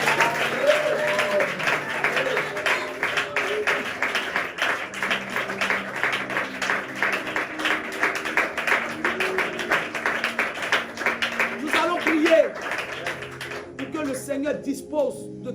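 A church congregation claps steadily and rhythmically to acclaim the Lord, a sustained patter of hands under music and voices, fading toward the end.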